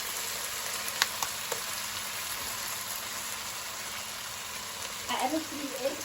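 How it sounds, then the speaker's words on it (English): Eggs cracked one after another into a hot pan while cooking chicken fried rice at home: a few faint, sharp taps early on, then a soft sizzle as the eggs hit the oil, over a steady kitchen hiss. "The eggs, we're gonna break them in here."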